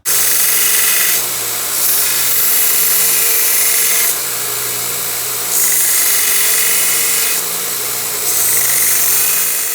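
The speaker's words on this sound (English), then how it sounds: "I'm gonna go ahead and start sanding and then cut that" A power sander whirs loudly and close, cutting in and out in several long bursts as it grinds against a surface, with a hissy, abrasive edge.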